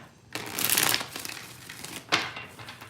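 A deck of tarot cards riffled during a reading: one longer papery burst followed by a brief second flutter, close and moderately loud.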